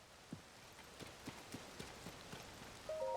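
Steady rain falls in Zelda Tears of the Kingdom near Skyview Tower, a soft continuous patter broken by regular clopping hoofbeats, with a brief tonal game chime at the end.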